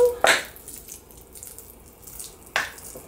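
Water pours from a container onto seedling greens planted in soil, a couple of short splashing bursts with quieter trickling between.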